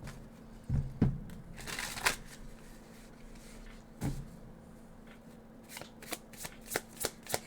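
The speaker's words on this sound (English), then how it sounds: "This deck is always so fun to shuffle." Cards riffle and slap in several quick bursts, with softer shuffling and tapping in between, close and fairly quiet.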